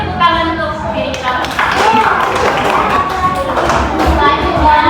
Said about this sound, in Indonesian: Kita beri tepuk tangan untuk diri kita.